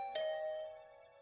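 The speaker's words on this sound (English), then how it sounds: "I had just returned to my room when the doorbell" A doorbell in the video game The Hundred Line: Last Defense Academy rings once with a bright synthetic chime that sustains and slowly fades, clear and alone.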